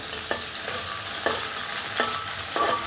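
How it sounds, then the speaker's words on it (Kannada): Finely chopped onions frying in a pan for carrot rice with curry leaves, a constant close sizzle broken by several brief scraping stirs of the spatula. "ಆದಮೇಲೆ ಸಣ್ಣದಾಗಿ ಕಟ್ ಮಾಡಿರ್ತಕ್ಕಂಥ ಈರುಳ್ಳಿ ಹಾಕ್ಕೊಳ್ತಾ ಇದ್ದೀನಿ."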